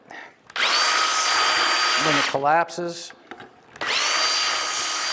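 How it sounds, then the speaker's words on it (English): A power drill fitted with a Vix self-centering bit whirs at high speed in two loud, steady bursts near at hand, broken in the middle by someone briefly speaking. "the drill bit goes in"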